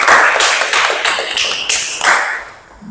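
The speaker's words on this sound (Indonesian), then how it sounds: "tepuk tangan untuk kita semua" Audience applause during an Islamic religious education class session in Banjarmasin: a dense, continuous patter of many hands clapping, fairly loud and steady for about three seconds before tapering off.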